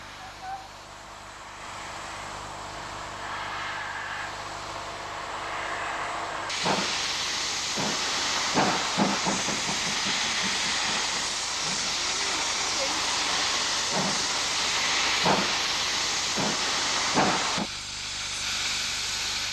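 A Great Western Railway King class steam locomotive hisses loudly and steadily, with a sharp rise in level partway through and repeated sharp chuffs and clanks over the continuous steam.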